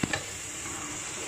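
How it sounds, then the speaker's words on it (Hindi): Chicken frying with spices in a pan, a steady sizzle with a quick stirring scrape at the start, close and moderately quiet, no voices. "उसके बाद चिकन को अच्छी तरीके से भून लेंगे"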